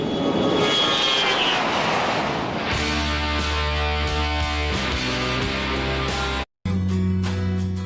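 A used 130-seat Boeing 727 holiday jet roars with a broad, steady engine rush that gives way to loud, sustained tonal whine, with one brief cut of silence near the end.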